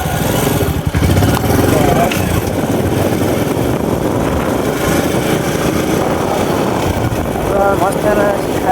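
A motorcycle engine runs loud and steady throughout, a continuous close rumble with no gaps.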